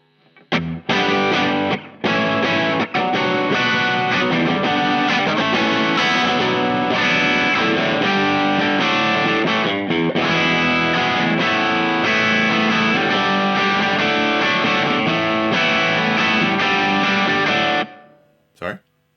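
Gordon Smith Gatsby electric guitar played through an overdrive pedal, a loud, dense driven tone with sustained chords and riffs running continuously, a brief gap near two seconds, then fading out at the end.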